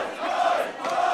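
Wrestling crowd cheering and shouting in support of a wrestler at a live bar-venue show, a steady broad roar that swells and dips slightly over a second, no talk over it.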